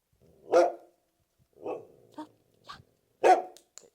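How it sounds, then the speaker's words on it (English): A service dog barks on command to summon help, giving several sharp, close barks spaced out over a few seconds with quiet gaps between them. "So again, she'll bark with just me asking."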